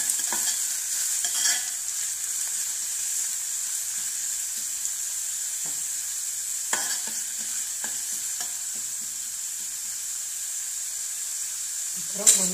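Sliced large onions sauté in a pan for an egg gravy, a soft continuous sizzle and hiss with occasional faint scrapes of a stirring spoon, close but quiet, ending with a louder clatter.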